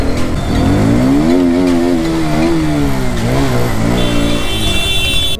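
A motorcycle rider speeds past on a night road, the engine loud and close throughout with rising and falling pitch as it revs and passes, no talking.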